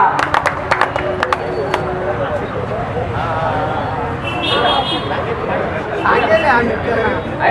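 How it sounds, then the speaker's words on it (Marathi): Crowd at an outdoor felicitation ceremony by a Dr. Babasaheb Ambedkar statue, clapping and chattering for the naming-movement fighters, with sharp claps early and a steady babble of voices throughout. "जोरदार टाळ्या वाजवून नामांतराच्या लढवयांना"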